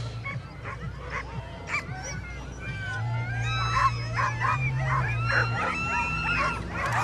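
Iditarod sled dogs in Willow bark, yip and whine excitedly before the start, a chorus of nearby and more distant dogs with a low engine idling underneath and faint voices.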